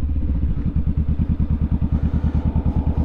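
A motorcycle engine rumbles loud and close with a fast, steady pulsing beat as it is ridden and picks up speed, wind adding a rushing hiss on top.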